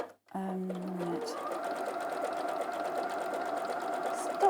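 A sewing machine stitches a bag that has a faux leather base, running as a steady, continuous close-up whir that starts abruptly and carries on without pause.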